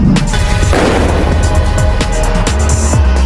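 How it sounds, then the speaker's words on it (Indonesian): A loud, sharp gunshot inside a house in a film, followed by a couple of further thumps and cracks over a dense, rumbling background. "tiba-tiba terdengar suara tembakan dari dalam rumah"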